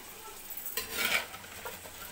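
Mutton pieces for Bannu pulao added to a pot and stirred, giving a faint, brief sizzle and a short scraping stir with a light clink of a utensil against the metal.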